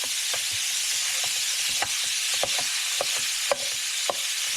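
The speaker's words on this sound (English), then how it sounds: "Listen to that sizzle." Beef sizzling steadily in a hot skillet over medium-high heat, a constant bright hiss with occasional sharp pops and crackles.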